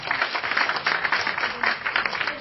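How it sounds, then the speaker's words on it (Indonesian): An audience at a debate gives a short burst of applause, a steady close clatter of many hands clapping for a couple of seconds. "Tepuk tangan."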